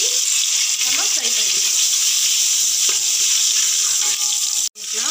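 Whole spices such as bay leaf and pepper frying in oil for mutton biryani: a continuous loud sizzle with light stirring, and a short break near the end.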